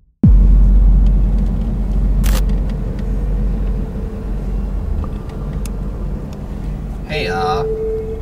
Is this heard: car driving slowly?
yes